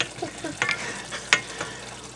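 Meat for red kraut is turned over in gravy in a frying pan, giving a soft sizzle with a few wet scrapes and two sharper utensil clicks against the pan, close and fairly quiet.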